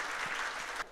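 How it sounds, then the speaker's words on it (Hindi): Audience applause at a televised interview with film actor Kanwaljit Singh, a brief burst of steady clapping that fills the moment alone and cuts off sharply at the end. "एक बार उनके नाम पर जोरदार तालियां हो जाए।"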